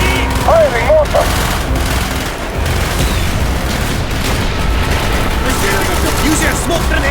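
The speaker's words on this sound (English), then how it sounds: "Use your smoke grenade to mark targets for our mortars! Firing mortar!" Mortar and gunfire in the Call of Duty Black Ops video game, with continuous dense battle noise of booms and rattling shots near and far. Voices can be heard over the din.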